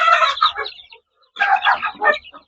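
Three-week-old free-range village chickens (ayam kampung) give short, close clucks and calls in two quick bursts separated by a brief pause.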